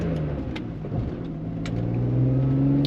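A 20-year-old BMW M3 engine revs up and pulls through a gear change, a mid-pitched rising drone heard from inside the car at moderate level.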